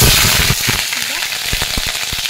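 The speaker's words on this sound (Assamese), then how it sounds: "অলৰেডি কেৰাহীটো গৰম হ'বলৈ দিছো তেলখিনিও গৰম হৈছে ইয়া প্ৰথমতে মাছ দুপিচ" Fish pieces fry in hot oil in a wok, making a loud, close, crackling sizzle with sharp pops and spits scattered across the continuous hiss.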